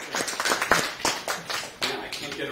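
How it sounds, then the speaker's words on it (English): A small audience at a real estate investors' meeting gives a brief round of applause, uneven individual claps and taps close by, with voices talking over the clapping. "Give him a round of applause"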